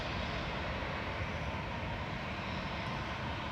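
An EasyJet Airbus A320 taking off from Manchester Airport, bound for Malta, gives a steady, broad jet engine roar that holds at an even, loud level the whole time, with no voices.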